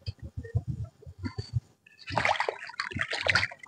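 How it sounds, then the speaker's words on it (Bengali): Cut fish pieces are rinsed and rubbed clean after being cut with ash. Soft rhythmic knocks come first, then close, continuous splashing and sloshing of water in a vessel, with no voices. "মাছ কাটা হয়ে গেছে, এখন ধুয়ে পরিষ্কার করে নেব।"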